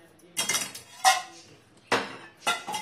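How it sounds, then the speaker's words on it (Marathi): A metal tava griddle pan clanks and clinks as it is handled and set down for frying, with a few sharp separate knocks over about three seconds in a kitchen, close and fairly loud. "एक तवा घेतलेला आहे"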